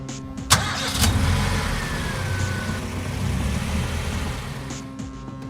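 A monowheel's engine runs steadily at close range, a continuous mid-pitched rumble with a sharp clunk near the start, and no voices.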